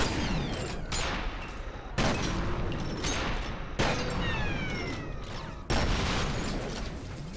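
Shotgun blasts in the shooter game F.E.A.R., four heavy booming shots spaced roughly two seconds apart, each followed by a long rumbling decay and scattered debris clatter, loud and close with no talking.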